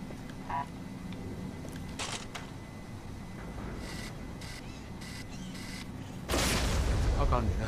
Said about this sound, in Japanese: ボムカー爆発しました。